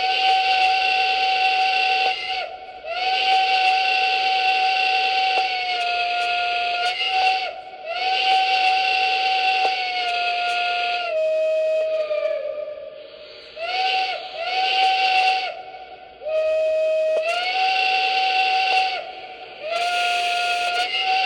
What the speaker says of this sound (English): But here is the whistle. If you're not a fan of loud banshee whistles, this is not for you.